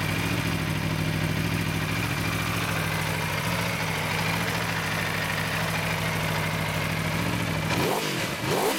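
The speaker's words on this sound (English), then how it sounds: "The factory exhaust sounds sweet, man." An Aprilia RSV4 RR sport motorcycle with its factory exhaust idles steadily with a deep, even rumble, then picks up in a brief rev near the end.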